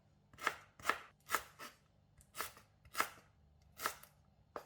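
A knife slices lemongrass stalks thinly on a cutting board: about eight crisp, close chopping strokes in an uneven rhythm with quiet gaps between and no talk.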